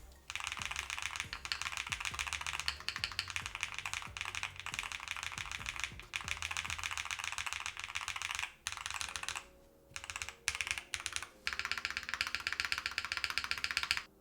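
Fast, continuous typing on a keyboard with red Hall effect switches and stock lubricant, close and crisp, clattering keystrokes in a dense stream with short pauses near the end.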